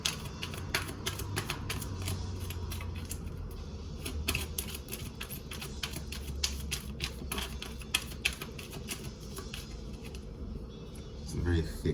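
A thick Golden Tarot card deck is shuffled at close range for several seconds, with dense crisp ticking and riffling card noises over a steady low background hum.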